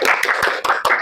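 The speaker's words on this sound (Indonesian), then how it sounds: "Tepuk tangan untuk Fazia dari kelompok" A small group clapping for a student's group presentation in a classroom, about five quick, uneven claps in close succession, near and fairly loud.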